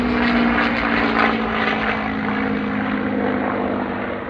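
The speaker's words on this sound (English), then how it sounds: "a four-ship display of P-40 Warhawks" Four P-40 Warhawk warbirds, two P-40Ns, a P-40E and a Merlin-powered P-40F, fly an airshow display with a loud, close propeller engine drone that stays steady before easing slightly at the end.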